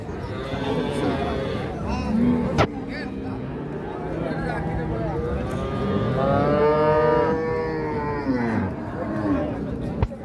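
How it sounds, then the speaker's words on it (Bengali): Cows low repeatedly at a livestock market, one Jersey among them, their long drawn moos rising loud and close over a busy backdrop of people talking. "এর পাশে একটা দেখছি এটা ভাই কি জাতের জার্সি এটা"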